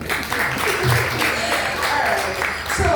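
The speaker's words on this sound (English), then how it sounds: "Clap for me." Loud, dense applause from an audience at a talk event in Enugu, a continuous rushing wash of clapping with voices mixed in throughout, sustained for the whole few seconds.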